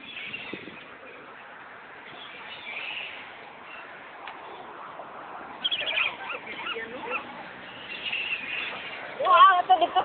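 Large ducks or geese honk and squabble while being fed, with loud bursts of calling near the end, under steady talk from a person nearby.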